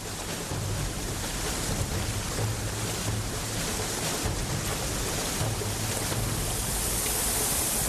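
Rapids in the Grand Canyon roar through a narrow channel, a loud, steady wash of rushing water with a low rumble underneath that never lets up.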